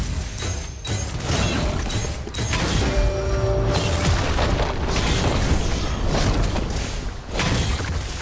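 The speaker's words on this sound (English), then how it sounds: "Blue team's turret has been destroyed." A turret explodes in League of Legends: heavy booms and crumbling mechanical rumbles fill the whole stretch, loud and close, with brief metallic creaks and pops.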